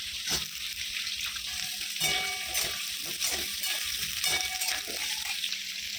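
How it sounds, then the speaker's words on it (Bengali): Steady sizzling of potatoes frying in hot oil, with occasional stirring clinks and scrapes, close and continuous throughout. "তেল গরম হয়ে গেছে আলুটা দিয়ে দিলাম"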